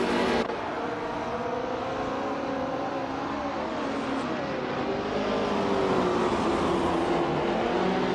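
Race cars including a 1967 Nissan R380 in a video game race, a continuous close engine roar with rising and falling pitch sweeps as the cars accelerate and shift.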